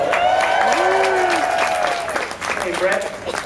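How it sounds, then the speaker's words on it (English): Audience on a cruise ship breaks into loud, dense clapping and cheering, sustained throughout with voices calling out and whooping over the applause. "Let's give him a big round of applause."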